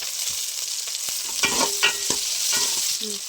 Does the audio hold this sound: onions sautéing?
yes